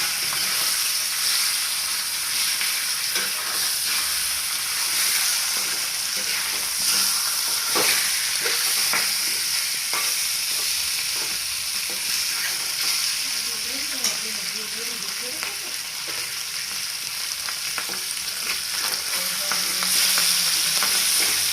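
Fish pieces dusted with chili and coriander powder fry in a pan for a village-style fish curry, giving a steady, dense sizzle that runs unbroken and fairly loud, with faint stirring scrapes and no talking.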